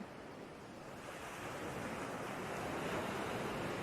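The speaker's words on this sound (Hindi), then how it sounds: "यह उठने वाली लहरें" Ocean waves break on a beach in a continuous broad wash of surf, steady and moderately loud and swelling slightly toward the end, with some wind noise and no voices.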